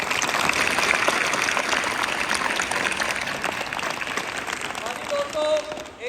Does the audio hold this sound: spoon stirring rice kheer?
no